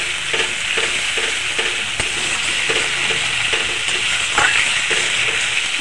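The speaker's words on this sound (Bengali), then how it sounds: "মশলা কষাতে কষাতে ভাজা আগে থেকে কাঁচকলার আলুটাও দিয়ে দেবো" Ground spice paste of green chilli, cumin, coriander, ginger and black pepper stir-fried in a pan for a fish curry with green banana and potato, a steady close sizzle and frying hiss with soft scraping stirs throughout.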